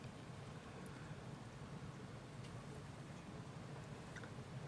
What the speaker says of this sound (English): Man, I can really hear that rain coming down.